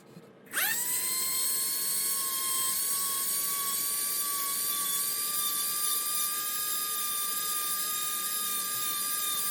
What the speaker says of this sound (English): I'm going to drill out the holes there to put in LEDs